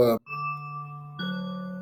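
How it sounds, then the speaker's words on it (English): A school-style bell system chime sounds in a room, a sustained tonal ring that steps up to a second note partway through, moderately loud and held steady after a brief burst of voice at the start. "I forgot about the bell system."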